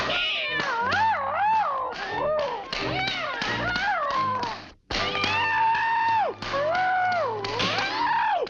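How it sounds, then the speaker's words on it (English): Exaggerated cartoon cat yowls and wailing meows follow one another in a long frantic run, with thumps and taps mixed in and a brief gap midway. "makes all these cat noises as though it's being tortured or something"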